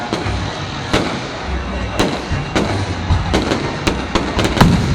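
Bung fai rocket launch at a Thai festival: a run of sharp cracking pops and bursts spaced irregularly over a steady crowd-and-hiss background, fairly loud and near, with no clear speech.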